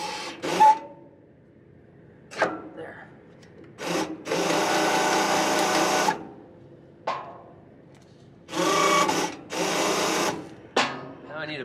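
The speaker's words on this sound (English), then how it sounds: "ideally now I can use this winch, pull this cable out, hook up to the anhydrous tank here." A farm winch runs in several separate bursts as cable is pulled out toward an anhydrous tank, each a loud close mechanical whir lasting one to two seconds, with clunks and handling noises between them.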